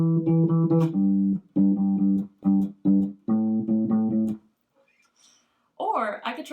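Bass guitar playing a varied bass line with added eighth notes, several short groups of plucked low notes separated by pauses, close and solo, then a voice begins speaking after the bass stops.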